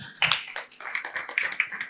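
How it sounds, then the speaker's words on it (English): A church congregation claps for Jesus during a sermon on harlotry, a burst of quick, dense, uneven handclaps with no voices over them. "Let's clap for Jesus."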